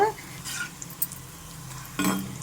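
Green chillies frying in oil in a pan while being turned, soft sizzling under a few scraping stirs, with short bursts of louder hiss at the start and near the end.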